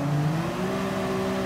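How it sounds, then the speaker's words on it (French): A BMW M3 engine revs steadily in the racing game Gran Turismo 7, a sustained droning tone holding under acceleration, moderately loud and unbroken for a short stretch. "qu'est-ce qui arrive quand on accélère, on peut doubler"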